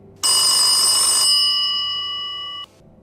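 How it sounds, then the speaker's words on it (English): A single telephone ring sounds loud and close, a bright metallic trill that settles into a sustained ringing tone before cutting off sharply. "I was rolling again when the phone began to ring."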